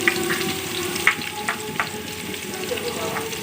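Cumin seeds and onion frying in a pan, a steady close sizzle with occasional crackles and stirring clicks throughout, no voice over it.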